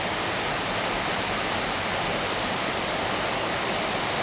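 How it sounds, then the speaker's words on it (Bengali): A strong current of rainwater rushes past in a dense, unbroken broadband roar, loud and steady from start to end with no voices. "দেখছেন পানির স্রোত, দেখেন পানির স্রোত দেখলে বুঝবেন আপনারা"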